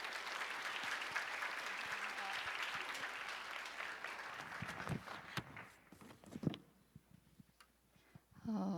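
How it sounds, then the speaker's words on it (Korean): A large church congregation gives a big round of applause at a Remnant dedication worship service, dense steady clapping that fills the room for about five seconds and then thins into scattered claps and brief rustling before a voice starts. "다 함께 큰 박수로 맞이하시겠습니다"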